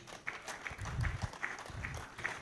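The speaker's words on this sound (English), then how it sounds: "Distinguished ladies and gentlemen, a round of applause as he makes his way to the stage." A summit audience claps as a guest walks to the stage, a moderately loud, scattered applause with uneven beats and some low thumps mixed in.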